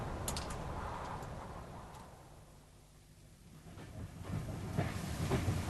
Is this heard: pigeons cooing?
no